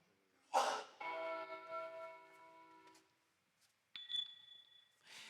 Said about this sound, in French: vous avez deux types de cloches